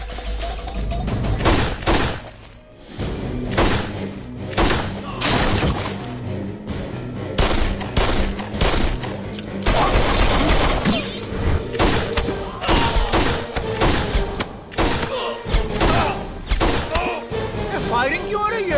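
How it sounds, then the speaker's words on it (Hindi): Dense gunfire and heavy booming impacts from an action movie soundtrack, loud and continuous with rapid bursts of shots layered over music and effects. "फायरिंग क्यों हो रही है?"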